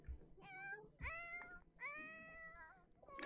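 A cat meows repeatedly in The Sims 4 video game, three or four drawn-out, clear meows in a row, fairly close, with no talking over them.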